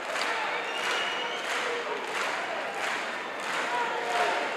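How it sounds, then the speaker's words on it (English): Wrestling crowd at a Hacksaw Butch Reed vs Marty Lunde match applauds in steady, rhythmic waves of staccato clapping, a distant arena roar pulsing about once a second. "Lunde now responding to these fans with their applause"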